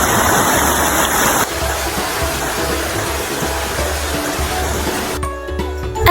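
River water rushes steadily in Baler, Aurora, a broad continuous hiss of flowing current that stays loud throughout and briefly dips before swelling again at the end.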